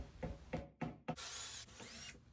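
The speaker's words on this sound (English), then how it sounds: "here I am drilling out the pilot holes so that they can accept my homemade dowels" Four short bursts from a power drill boring pilot holes into the wooden backrest of a Windsor chair with a bent lamination back, each separated by a brief pause, followed by a longer grinding whir, close and fairly quiet.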